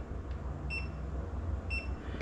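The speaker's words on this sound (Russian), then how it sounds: "Блок питания пикнул." A charger power supply, with a battery just plugged in to charge, gives two short, high electronic beeps about a second apart over a low, steady hum.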